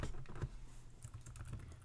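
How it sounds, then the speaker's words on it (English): Quiet, rapid typing on a computer keyboard, a close patter of light key clicks with brief pauses and no voice. "And I'm going to type as much as I can."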